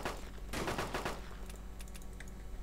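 Rapid gunfire from the video game DayZ in a burst of quick repeated shots, then scattered single clicks and pops, fairly quiet and without talk.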